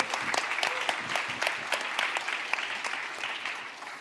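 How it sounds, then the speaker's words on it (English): Audience members at a blockchain ecosystem conference clap during a live tech demo, a short burst of several people's applause in a hall that tapers off after a few seconds. "I'm clapping."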